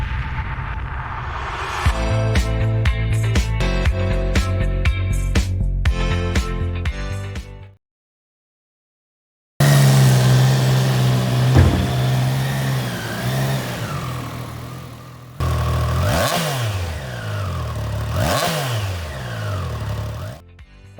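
A Triumph Tiger 660 Sport motorcycle on a ride, its engine revving and droning loudly, then rising and falling in pitch through later stretches, broken by a brief silent gap.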